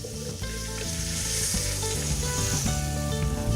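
Tomato dropped into a hot pan sets off a loud, steady sizzle of frying that holds for several seconds, with faint stirring and clinks of utensils mixed in and no voices.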